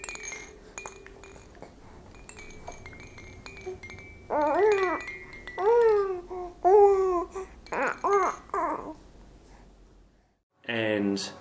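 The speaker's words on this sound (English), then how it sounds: "little musical toy, and it sounds like this" A child plays a little musical toy, giving a few bright, rising and falling chiming tones in short bursts with pauses between, close and fairly quiet, after some faint clinks and shuffling.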